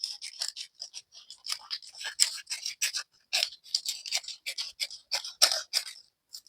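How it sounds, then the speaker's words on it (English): Scissors cut a paper sleeve pattern for a blazer in a long run of rapid, crisp snips, close and steady, with no talking. "I'm going to cut this out."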